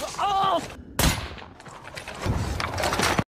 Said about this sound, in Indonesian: penembak jitu misterius juga menembaknya di bagian lutut